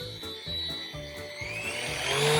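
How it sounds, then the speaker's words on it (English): An electric sander that had been failing to start whirs into life, a few stuttering bursts of motor noise giving way to a rising, steadily louder mechanical whine. "Now, we can start sanding."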